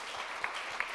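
Brief, faint applause from an audience at a design research conference panel at MIT, a soft even patter with a couple of sharper individual claps.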